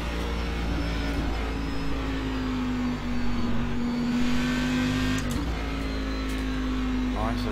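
A Cadillac race car in the iRacing sim holds a steady droning engine tone under throttle with a brief dip midway, while someone talks over it.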